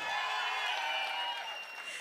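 An audience at the Matka teaser launch event applauds and cheers in a broad, continuous wash of clapping that fades slightly toward the end.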